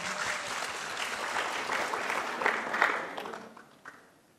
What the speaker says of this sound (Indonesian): Tepuk tangan dulu dong, tepuk tangan.